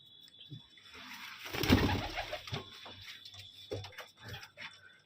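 Soft, throaty cooing of racing pigeons close by, a few low repeated calls with a brief flutter of wings in the middle.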